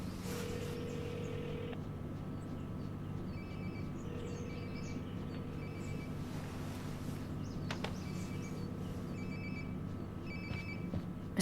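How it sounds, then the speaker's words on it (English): A phone ringing in a repeating ring pattern inside the Life is Strange: Before the Storm video game, set over a steady hum of game ambience. "Sounds like my phone is definitely nearby."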